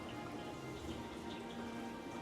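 Steady rain falling outside a luxury home's arched entry, a soft continuous patter of drops filling the background evenly throughout.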